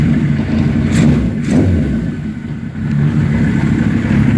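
A 1979 Suzuki GS1000 E motorcycle engine, warm, running steadily nearby with a loud low rumble, slight swells in revs and a few thumps, no speech.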